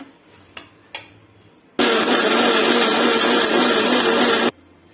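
A mixer grinder blends drumstick leaves, coriander leaves, lemon and curry leaves in a home kitchen, running as one loud, steady whirring burst of about three seconds after a couple of small clicks, with no talk.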